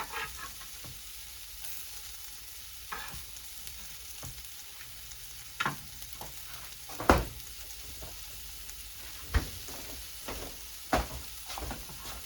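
Ginger and garlic fry in a pan for soup, producing a soft steady sizzle punctuated by several sharp clanks and scrapes from stirring, close and otherwise quiet.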